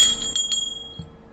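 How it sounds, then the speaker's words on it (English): A small hand bell rung during a Shiva puja incense offering for Maha Shivaratri, a bright metallic ringing with a few struck peaks that fades into a quiet room, heard alone. "while waving you have to ring the bell"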